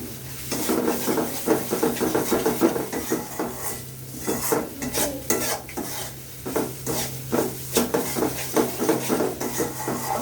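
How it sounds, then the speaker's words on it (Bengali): Spice paste for katla fish curry frying in oil in a pan, with a soft steady sizzle under repeated clinks and scrapes of a spoon stirring against the pot, close up and without speech. "মশলাটা ভালো করে আরো কষিয়ে নিব"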